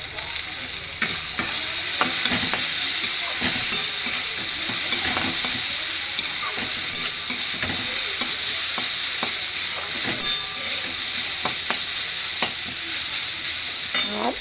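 Cumin, ginger and chili paste fry in hot oil with a steady, close sizzle and hiss, broken by repeated scrapes and stirring knocks of a spatula in the pan, no voices.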